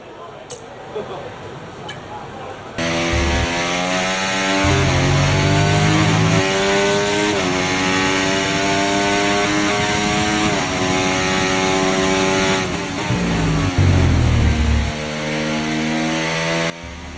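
An F1 race car engine screams through a flying lap in an F1 video game, loud and close, climbing through the revs and dropping sharply at each upshift and braking point.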